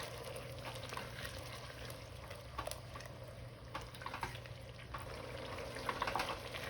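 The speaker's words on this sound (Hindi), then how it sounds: "सारी चीज़ों को डाल के अब अच्छी तरह से इसकी हम भुनाई करते हैं।" Spices and yogurt sauté in a pot for chana pulao, giving a steady, moderate sizzle and bubbling with occasional soft stirring clicks throughout.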